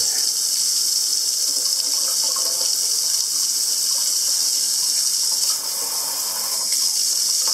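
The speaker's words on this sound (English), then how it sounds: "Houston, we have water." Water gushes steadily and loudly from the tap of a newly plumbed kitchen sink in an off-grid house, an unbroken hiss with no talking.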